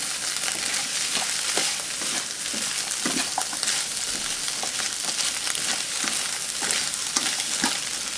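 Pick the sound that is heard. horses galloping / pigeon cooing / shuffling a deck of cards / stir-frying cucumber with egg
stir-frying cucumber with egg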